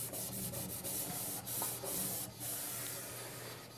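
A hand pad rubs back and forth over a weld seam to clean it, a steady, close, abrasive scrubbing in continuous strokes with slight pulses, no voices present.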